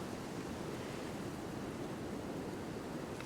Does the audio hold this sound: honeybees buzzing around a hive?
no